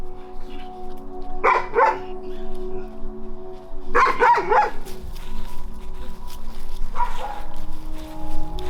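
A dog barks indoors in short clustered bursts, a pair of yaps, then a quicker run of several, then a single later bark, moderately close over a low steady background hum.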